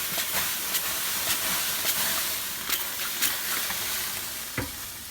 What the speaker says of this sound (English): I'm going to spritz the sides